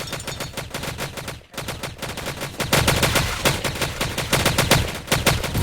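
Rapid bursts of gunfire from a weapon in Grand Theft Auto V, loud and continuous with dense repeated shots, briefly broken by a short gap before firing resumes.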